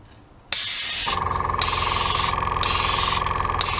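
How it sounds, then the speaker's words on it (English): An airbrush sprays chainmail silver paint thinned with flow improver onto a model grain container, starting with a sudden steady hiss that runs on with brief pulses and pauses, close and alone. "And I'm just highlighting by spraying from above."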